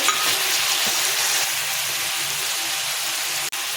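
Two medium tomatoes cut into long strips go into a pan of sautéing onions, giving a steady, close, continuous sizzle and hiss throughout, with a short sharp clatter near the end.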